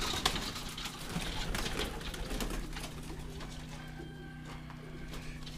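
Feral pigeons in a loft coo and flutter as they are caught with a net, with shuffling footsteps and scuffing under a steady low hum.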